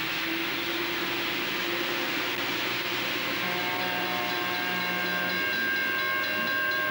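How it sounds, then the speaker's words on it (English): Train starting to move, a broad steady hiss and rumble with tonal whistle-like lines that rise and settle, constant in level throughout, no voices. "Did you start that train?"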